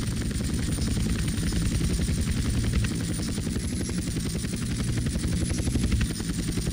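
A helicopter's rotor thumps steadily and loudly throughout in the video game GTA San Andreas, a dense chopping drone with a thin whine above it.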